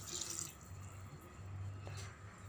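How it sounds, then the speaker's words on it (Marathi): A little water added to a simmering Marathi shark fish masala in a pan, a soft, steady stream like running water, faint and close, heard alone without any voices. "यात आता आपण थोडे पाणी घालून घेऊ।"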